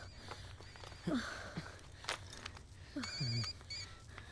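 A telephone rings in a home scene from a Bollywood film, a faint electronic trill heard in short bursts under a voice calling out, with light footsteps and movement nearby.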